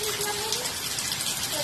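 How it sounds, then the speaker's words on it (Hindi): Heavy rain falls during a Karwa Chauth evening, a steady, dense hiss and patter with a faint tonal hum over it, fairly quiet throughout and with no clear talk. "यहाँ कितने जोरों की बारिश हो रही है"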